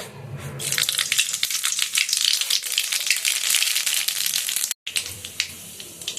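Nigella seeds and dried red chilies sizzle in hot mustard oil in a wok, a loud, steady crackling hiss with dense spitting pops that cuts out for a moment near the end before resuming.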